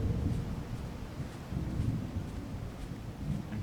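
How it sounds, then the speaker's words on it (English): Rain and thunder in an indie video game where blood rains over a red ocean: a dense, steady low rumble of rain and distant thunder rolls continuously, with no voices over it. "it is raining blood like people said, but the entire ocean is red now"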